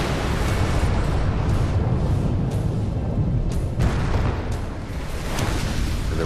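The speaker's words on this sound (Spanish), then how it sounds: "Hubo una gran explosión con una potencia equivalente a la de una explosión nuclear." A rumbling explosion effect representing the 1908 Tunguska airburst over Siberia, a dense, sustained roar of boom and blast texture with a few sharper bursts rising within it, loud and unbroken from start to finish.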